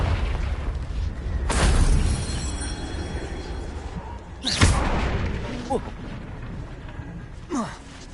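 Fiery blasting-spell explosions in the Hogwarts Legacy video game: a loud broadband boom near the start, a sharper blast midway and a smaller burst near the end, each trailing into rumbling decay.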